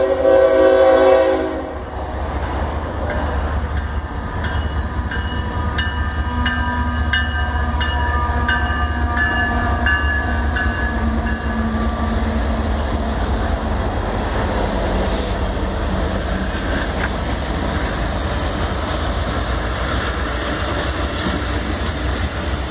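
Conrail heritage ES44AC locomotive 8098 passing with its horn blowing loudly at the start, followed by a long steady rumble of the train rolling by nearby.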